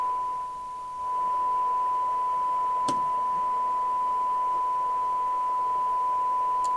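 An Amstrad CB901 CB radio with a faulty detector receives a signal as a steady hiss with a constant high tone, broken by a brief click, with no voice coming through.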